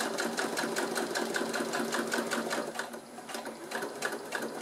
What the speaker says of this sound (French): Pour faire cette couture, j'utilise mon pied téflon pour que ça glisse mieux du coup sous ma machine.